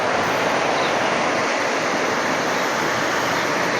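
Water rushes through a damaged irrigation flood-control channel in Ocampo, a loud, steady, close roar of churning flow that never lets up.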